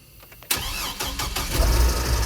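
A 2007 Hummer H3 with the 3.7 engine cranks over on the key after a coil and oil change, catching with a sharp burst and settling into a steady, close idle that grows slightly louder.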